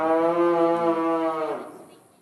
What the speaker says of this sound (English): cows mooing, sometimes so loud we had to stop as we talked